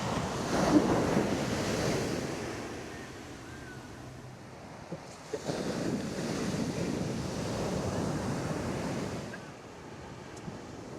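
Ocean surf breaking on the beach at Laguna Beach, California at sunset, a steady washing roar with swells rising and falling, mixed with wind rumble against the microphone and no talking.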